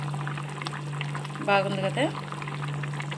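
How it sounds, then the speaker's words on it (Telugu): A potato curry bubbles in a pot on the stove with a steady low simmering hum, while a voice speaks briefly over it. "చూడండి ఫ్రెండ్స్, కర్రీ ఎలా ఉడికిందో"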